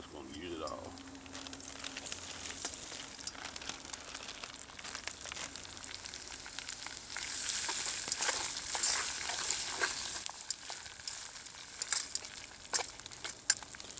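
Hash browns and fresh hog sausage frying in grease outdoors in the woods, a continuous soft sizzle that swells louder partway through, with someone talking over it.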